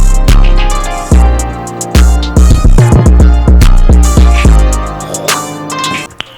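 Dark, ethnic-flavoured trap beat made in FL Studio, with a full mix of punchy deep 808 bass, crisp hi-hats and a tonal melodic lead. It plays loud and continuous throughout, with no voices.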